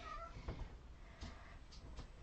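A house cat meows faintly a few times, brief high calls over quiet room noise, with no talking.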